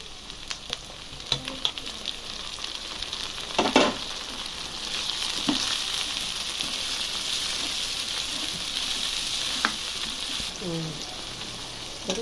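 Onion and mushroom pieces fry in a pan, giving a steady close sizzle with occasional clinks and scrapes of stirring.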